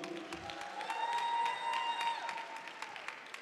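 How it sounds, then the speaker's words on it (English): Audience at a student union cultural event applauding with sharp individual claps and a few cheers, moderately loud and sustained throughout. "Can we give a round of applause as well?"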